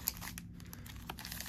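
A Cardfight!! Vanguard booster pack wrapper tears open in a quiet crinkling burst of foil, with scattered crackles and a few brighter rips, close and soft, with no talk over it.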